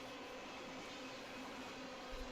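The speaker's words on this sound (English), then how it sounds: "as we roll by our empty ethanol train that's heading west" An empty ethanol train rolls past heading west, a steady broadband rumble and rail hiss that stays constant and fairly faint throughout, with no distinct clanks standing out.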